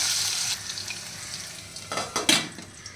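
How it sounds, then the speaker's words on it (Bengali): Mushrooms and potatoes frying with salt in a pan, a constant close sizzle with a few quick scraping and clattering strokes as the pieces are mixed. "অল্প একটু লবণ, ভালো করে মিক্স করে ভেজে নেব।"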